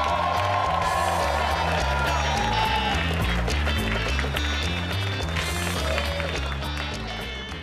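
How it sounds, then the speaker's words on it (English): Comedy club audience at Gotham applauding and cheering as a comedian takes the stage, a dense sustained wash of clapping and whoops under loud walk-on music, fading slightly toward the end. "show some love for Dave Temple"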